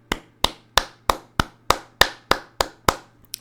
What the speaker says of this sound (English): Ladies, gentlemen, a gentle round of applause.